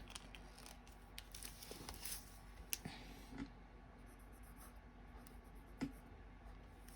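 Pen writing a short note on a Christmas card, faint scratchy strokes with a few soft taps and clicks in a quiet room, no talking.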